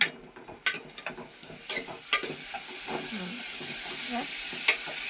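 Ginger and onion frying in a pan for a bommidi fish curry, with a steady close sizzle and a few sharp scraping stirs of a utensil against the pan, no talking.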